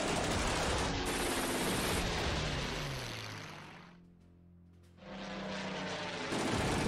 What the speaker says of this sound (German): Jetzt kommen Flugzeuge.